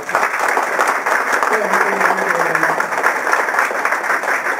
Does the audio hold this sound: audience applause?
yes